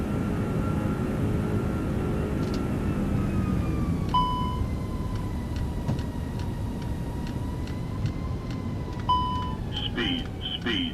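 Airbus A340 flying in a flight simulator game, steady cockpit engine drone with a slowly falling tone, plus repeated ticking and several chime-like dings over the top.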